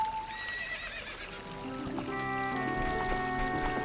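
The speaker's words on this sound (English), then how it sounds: "Thank you, my magically spawning horse." The horse Epona whinnies in The Legend of Zelda: Ocarina of Time, its high call rising and falling, followed by soft hoof clops over background music.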